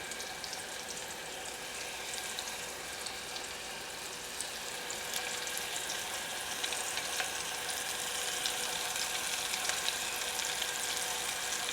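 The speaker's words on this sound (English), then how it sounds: "Okay, I'll finish these up and then we'll fry some onions. Let's test out a few of these shallots." Shallots fry in oil in a home kitchen for a green bean casserole, giving a continuous bright sizzle and crackle that swells slightly louder toward the end, with no talking.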